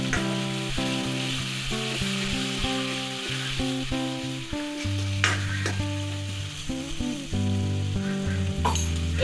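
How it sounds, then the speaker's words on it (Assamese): Spice paste fries in oil for a chicken pulau, a steady close sizzle and crackle with occasional stirring scrapes and light utensil clinks, alone without talk. "এইখিনি অলপ সময় ভাজি ল'ম"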